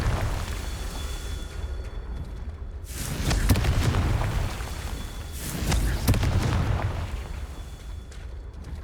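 Confringo fire-blast spells explode in Hogwarts Legacy, two loud roaring bursts a few seconds apart, each swelling and fading over a low rumbling game backdrop.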